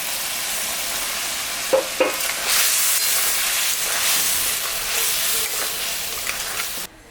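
Poppy seed paste with green and dried chillies and potato sizzles and simmers steadily in a pan, a continuous close hiss with a few faint clinks, no voices.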